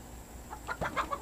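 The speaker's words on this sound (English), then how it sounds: "Oh! I can pet the chicken." Chicken clucking inside a video game, a few short bursts of clucks building over about a second, moderately quiet against faint background sound.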